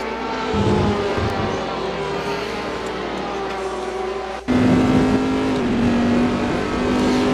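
Black Ferrari 458 race car engine at Spa in a racing video game, a loud steady drone that continues unbroken, with the tone jumping up at a sudden gear change partway through.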